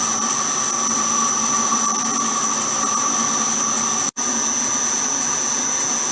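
A 100-year-old hand-fed machine cutting hex bolt stock: a steady, loud mechanical whine with a humming vibration that runs throughout, broken by one very brief dropout, and no talking.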